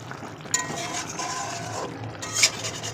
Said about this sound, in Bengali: নাড়িয়ে চাড়িয়ে দিই যাতে সব দিকে ভালো মেশে।